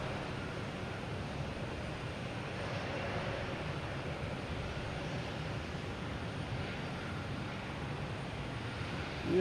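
A large airliner taking off at Boston Logan Airport, a steady broadband jet engine roar holding loud and constant throughout with no voices.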